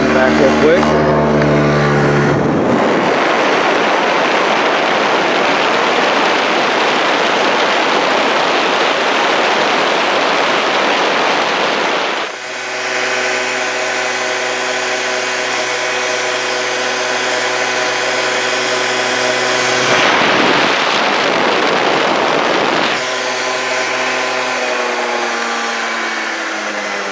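A 1986 Honda Spree scooter's small engine revs and drones steadily while riding up a road, loud and close, easing off mid-way before picking back up, with a voice now and then.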